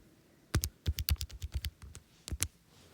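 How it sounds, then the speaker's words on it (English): Quick run of calculator key presses, a dozen or so crisp clicks in an uneven rhythm, close and fairly quiet in an otherwise still room with no talk. "Typing that into my calculator."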